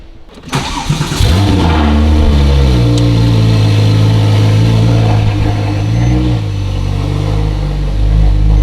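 A Porsche 997 Turbo engine with a Soul exhaust cranks and catches, then settles into a loud, deep rumbling idle with a brief rev partway through, heard up close.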